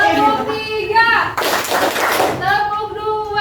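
A classroom of students claps together in a short burst of rhythmic clapping, dense and close, set between stretches of a speaking voice.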